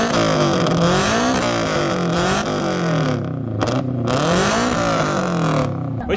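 A turbocharged Ford Mustang with a built engine running on E85 revs hard, the loud exhaust rising and falling in repeated throttle sweeps with a few brief cut-offs, close by and without any talk.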